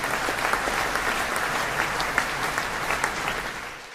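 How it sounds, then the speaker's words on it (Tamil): Audience applause at a school debate event, steady dense clapping from a large crowd, close and continuous, tapering slightly at the end. "நீங்க ஒரு கரகோஷம் கொடுக்கணும்"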